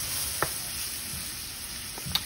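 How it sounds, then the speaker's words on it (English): Onion sizzling in a pan while being stirred, for a coconut curry shrimp dish, with a steady frying hiss and a few sharp spoon scrapes and clicks against the pan. "I'm going in with my onion now. I'm gonna just stir as I go along."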